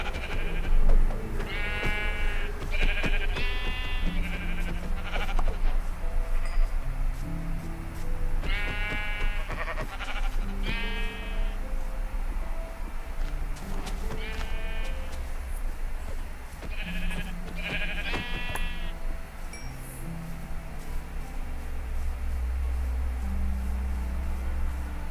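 Sheep in Minecraft survival bleat repeatedly in short, wavering, nasal calls, several clustered together then pausing, over a steady low background rumble and scattered game sounds.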